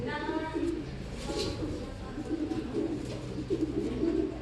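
Pigeon cooing nearby in a loft, soft repeated low coos in a rhythmic series over a faint background hum.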